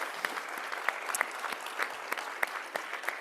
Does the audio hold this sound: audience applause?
yes